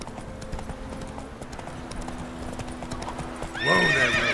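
Geralt's horse Roach in The Witcher 3 gallops with steady, close hoofbeats, then gives a loud whinny as it is reined in at the end.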